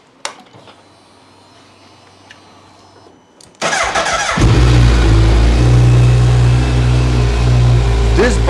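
A motorcycle engine is switched on in a garage, starting after a quiet stretch and settling into a loud, deep, steady running idle close by.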